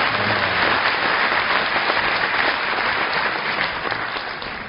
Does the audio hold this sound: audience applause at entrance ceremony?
yes